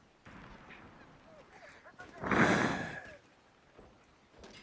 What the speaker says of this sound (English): we just got demolished by a mortar